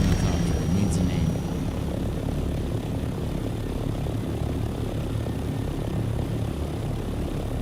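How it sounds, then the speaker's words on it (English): An ornithopter flies in the video game Dune Awakening, giving a continuous, fairly loud rotor-and-engine drone that holds steady throughout, with a brief high tone near the start. "Like the Mustang, but it's an ornithopter instead."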